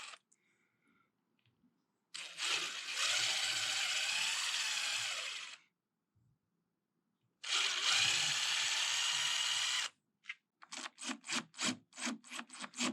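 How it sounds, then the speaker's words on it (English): A power drill boring holes into a piece of furniture being refinished, its bit marked with painter's tape as a depth stop. Two long, loud, steady whirring runs with a pause between, then a string of short rhythmic bursts at the end, with no talking. "my drill bit so that I know where I should stop drilling."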